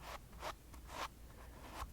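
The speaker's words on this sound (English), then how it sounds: "And this is the sound of the stem of the pumpkin." Fingers rub a pumpkin stem in four soft, close scratchy strokes at a slow, even rhythm, quiet and dry with no voice.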